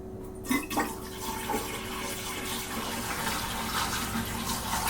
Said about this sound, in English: First time pouring some water down the drain.